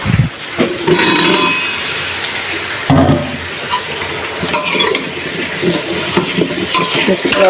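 Bottle gourd pieces dropped into a pan of sautéed hilsa fish curry, with steady sizzling, stirring and clinks of a utensil against the pan, plus a sharp knock near the three-second mark.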